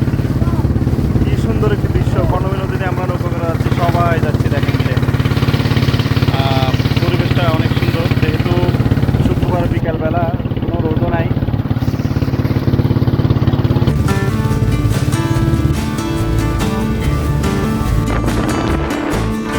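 A boat engine drones steadily on the Karnaphuli river, a loud low continuous throb that runs the whole way, with a person speaking over it and a tonal shift near the end.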